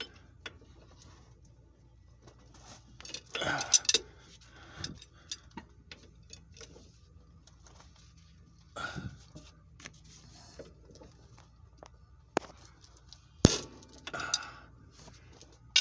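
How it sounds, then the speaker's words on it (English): Wrenching the last nut and bolt off the rear drive shaft of a Nissan R50 Pathfinder: sparse metallic clicks and clanks, with a few louder knocks around the middle and near the end, over quiet background. "removing the last nut and bolt from the drive shaft"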